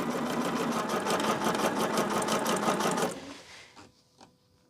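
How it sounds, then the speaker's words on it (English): A sewing machine stitches fast and evenly at close range, a rapid rhythmic needle chatter lasting about three seconds before it stops, followed by a couple of faint clicks. "I'm just sewing right now"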